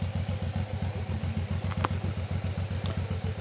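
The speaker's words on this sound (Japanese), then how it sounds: "最近多いんだよ、オートバイ。" Motorcycle engine near Naguri Lake by the Arima Dam, a steady rhythmic mid-pitched chug that stays fairly close and even throughout, with a faint click or two on top and no talking.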